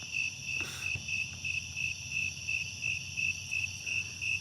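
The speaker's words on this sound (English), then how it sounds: "We have probably a snowy tree cricket over here." A snowy tree cricket chirps in a backyard in August, giving a steady, evenly spaced train of clear, high pulses at a moderate distance over quiet background hum, with no voices.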